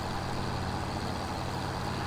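A tractor engine runs steadily nearby on a fish farm, giving a loud, continuous low rumble with a droning hum and no pauses.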